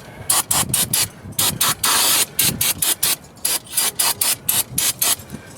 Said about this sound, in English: I'm just going to take some brake clean and just kind of give us a good